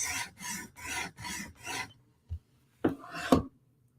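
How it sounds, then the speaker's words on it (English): A Hinderer knife blade being sharpened on a TSProf Kadet guided sharpener, five rhythmic raspy abrasive strokes close up, then a short pause, a light tap and two harder scraping passes. "This steel's pretty easy to sharpen. We're doing our pass."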